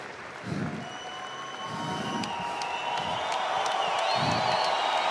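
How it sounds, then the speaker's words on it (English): A crowd at the RKENA fight event in Georgia cheers and applauds steadily, a dense roar of clapping and whoops that swells slightly over several seconds, with a few louder shouts and a voice briefly heard within it. "Listen to this crowd."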